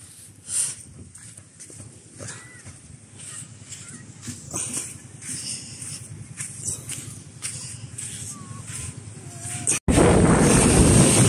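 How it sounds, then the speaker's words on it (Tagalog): Steady strong wind buffets the microphone in a continuous roar at sea, rising into a loud gust at the end, with faint background noises. "malakas yung hangin at kalakataw, oh."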